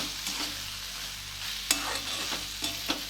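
Tomato bhaji with crushed peanuts stirred in a pan: a soft continuous sizzle with a few distinct scrapes and clinks of a spoon against the pan, close, no voices.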